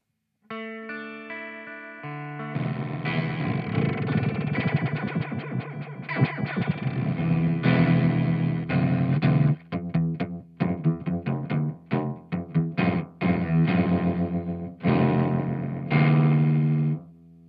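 A harsh synth tone swept through a Dreadbox Komorebi flanger at extreme settings turns metallic and clangorous, shifting into choppy, ring-modulated bursts, loud with no voices.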